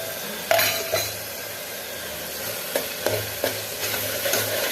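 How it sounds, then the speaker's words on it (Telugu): Mustard seeds and coriander powder fry in a pan while a spoon stirs them, giving a soft sizzle under a few sharp scraping clinks of metal on the pan, heard close up with no talking. "మరొకసారి అంతా బాగా కలిపేద్దాం. ఒక 2 నిమిషాలు వేగనిద్దాం."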